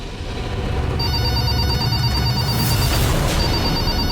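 A telephone rings with a repeating electronic trill, loud and close, cycling through several bursts over a constant noisy background.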